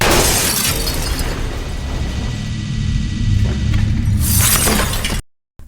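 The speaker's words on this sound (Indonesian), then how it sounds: "Kaca jendela pecah dan dia kembali terjatuh ke dalam rumah." Window glass shatters loudly in a film scene as the pane breaks, a dense crashing burst with scattering debris that fills several seconds before cutting off abruptly.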